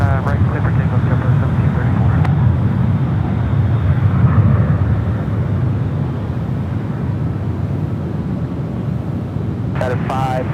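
A JetBlue airliner takes off from runway 1 right at San Francisco airport, a loud steady jet roar with broad rumble filling the scene, while radio voices from air traffic control talk over it at the start and end.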